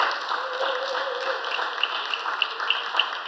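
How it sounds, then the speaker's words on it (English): A church audience claps for a woman, a dense, moderately loud patter of applause that holds steady with a few sharper claps standing out, and a faint voice is heard partway through. "let's give her a big clap"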